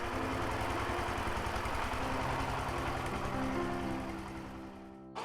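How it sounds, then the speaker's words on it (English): A farm tractor drives out of a muddy wetland in rural Bangladesh, its engine chugging in a steady, close, loud rhythm before fading away toward the end. "Zakir drives his tractor out of the wetland"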